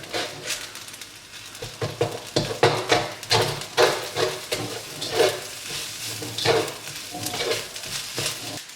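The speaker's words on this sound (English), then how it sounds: "I'm going to mix it all into the rest of the rice." Egg is stirred through rice frying in a pan for nasi goreng, with steady sizzling, a spatula scraping and clinking against the pan in irregular strokes, close and fairly loud, with no talk.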